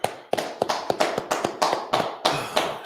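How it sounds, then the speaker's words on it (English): A group clapping at an ISUPK biblical law class in Fayetteville, North Carolina, about a dozen loud, distinct claps in a roughly steady rhythm, close and clear with no talk. "All right, let's clap it up."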